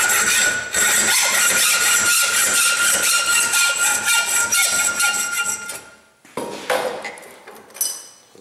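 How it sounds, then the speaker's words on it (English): A hacksaw cuts a straight line through metal in rapid, regular back-and-forth strokes, loud and close, then pauses and resumes with a few slower, scattered strokes. "So I'm going to hacksaw a straight line down here"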